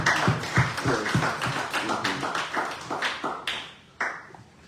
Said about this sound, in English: Please, let's give a round of applause again